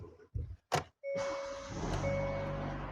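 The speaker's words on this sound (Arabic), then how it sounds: "بسم الله شغل السيارة" A 2023 Hyundai Tucson with key ignition starts up: a few short clicks and mechanical noises come first, then the engine catches and settles into a steady idle hum with a faint tone over it.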